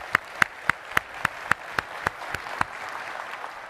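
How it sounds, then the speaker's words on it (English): A small audience at a defense intelligence conference plenary gives a brief round of applause: about ten distinct, evenly spaced claps up front, then a softer scattered patter that fades out, with no voices. "How about another round of applause?"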